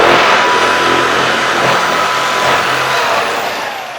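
A power saw cuts through steel roofing with a loud, steady grinding whine that holds for several seconds and eases slightly near the end, with no talking.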